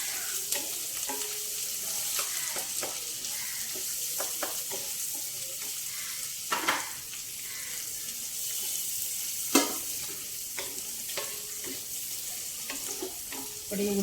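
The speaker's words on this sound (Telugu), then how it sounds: "ఇప్పుడు ఉల్లిపాయ ముక్కలు వేసుకుందామండి." Sliced onions fry in a pan for a cabbage dish, a steady close sizzle with intermittent spoon scrapes and clanks as they are stirred.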